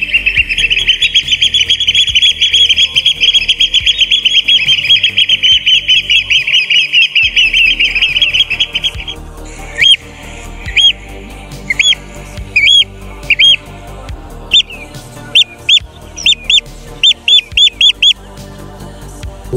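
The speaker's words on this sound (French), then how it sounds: "cet oiseau a un cri bien caractéristique que je vais vous mettre ici tout de suite" A shorebird's recorded call plays as a loud, continuous shrill trilling chorus that breaks into repeated sharp, clipped squawking notes in an irregular rhythm, with no talk over it.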